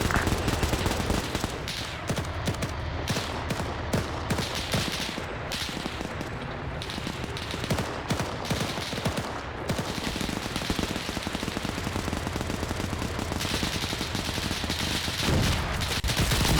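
Sustained WW2 gunfire in a German-versus-Soviet video game battle, including sniper rifle shots, with dense bursts of rapid shots and loud cracks throughout, without a break.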